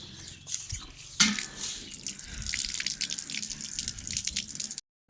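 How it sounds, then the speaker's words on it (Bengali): Dragon fruit is washed under a running kitchen tap, with water splashing and trickling close by, a brief louder gush just after the first second, then steady flow until an abrupt stop near the end. "এই ফলটা তো আমরা ধুয়ে নিই"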